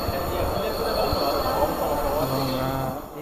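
A metro rail train runs at the Bangladesh Secretariat metro station platform, with a loud, continuous rumble, squealing wheels and rising tonal whines, close by and with no clear speech.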